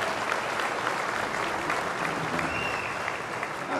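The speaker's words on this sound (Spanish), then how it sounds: "un aplauso para el martillero" Applause for the auctioneers at a livestock auction, steady crowd clapping of moderate loudness that carries on unbroken, slightly distant in the space.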